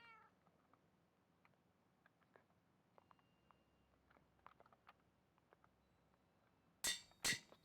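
A Minecraft cat meows two or three times in quick succession near the end, loud and close after a stretch of faint clicks and near silence.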